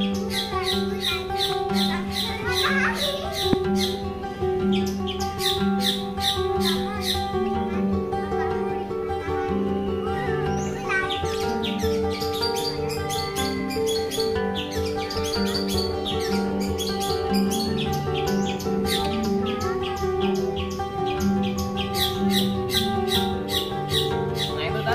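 A long-tailed shrike (cendet) calls continuously, with repeated sharp chirps, squawks and rapid trills mixed with warbling phrases, close and fairly loud throughout.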